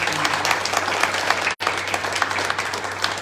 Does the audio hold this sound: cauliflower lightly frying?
no